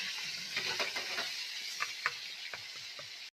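Fish masala being stirred in a pan with ground spices, a steady frying sizzle under scattered spoon scrapes and clicks, close and continuous with no voices.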